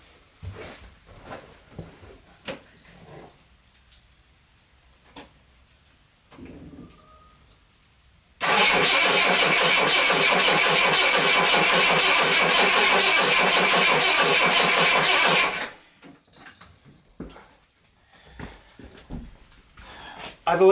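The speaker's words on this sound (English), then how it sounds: "So let's see if this thing cranks over." A repaired engine with freshly fitted HT leads and a filled fuel tank cranks over steadily for about seven seconds without catching, loud and continuous, then stops abruptly; before and after it there are only faint quiet noises.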